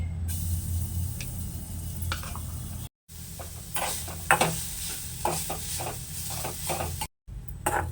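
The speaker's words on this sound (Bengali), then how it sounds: "নারকেলটা নাড়াচাড়া করে সামান্য একটু লাল লাল করে ভেজে নিয়েছি" Grated coconut is stirred and fried in a kadai over a low gas flame for mango halwa. Soft, steady sizzling is broken by repeated scraping strokes of the spoon, with two brief dropouts.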